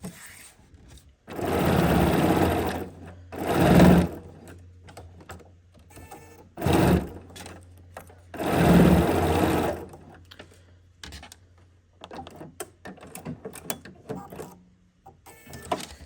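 A sewing machine fitted with a freehand embroidery foot stitches fabric pieces into a seam allowance in several short bursts of rapid whirring, separated by quiet pauses and small handling clicks.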